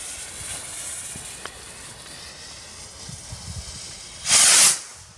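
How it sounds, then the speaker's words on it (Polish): A New Year's firework rocket from a Keller Rondo Grande set launches with a single sharp, loud hiss lasting about half a second, after quiet outdoor background noise. "Lecimy teraz z troszeczkę większymi rakietkami."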